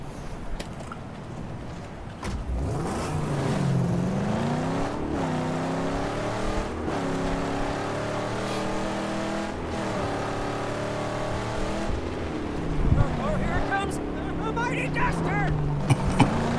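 Cars roaring along roads in the Mad Max video game, with engines revving and rising in pitch through repeated accelerations, loud and continuous over about sixteen seconds.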